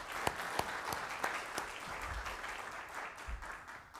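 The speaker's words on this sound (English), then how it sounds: "let's give all 3 of them a round of applause before we continue" An audience applauds three business-track competition teams with dense, steady clapping, several sharper claps standing out early, fading slightly toward the end.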